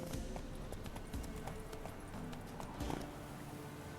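Geralt's horse Roach trots in The Witcher 3, hooves clopping in a steady, close rhythm for several seconds with no talking.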